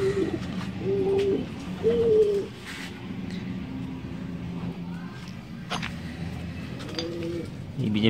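Breeder pigeons coo in low, rounded bursts close by, several repeated calls overlapping through a steady murmur of background birds, with occasional soft knocks and rustles.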